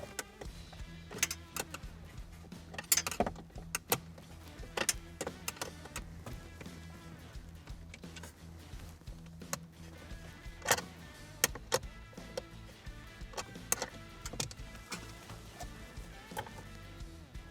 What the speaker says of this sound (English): Now we're going to remove the 2 8mm bolts.